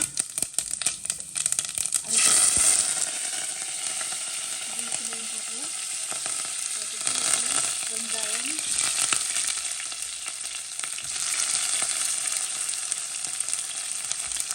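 Mustard seeds, cumin and fenugreek fry in oil for a Jaffna crab curry, a loud close sizzle and crackle with a sharp surge early on and later swells, alongside faint rustling handling noises.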